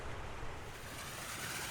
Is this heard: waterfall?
yes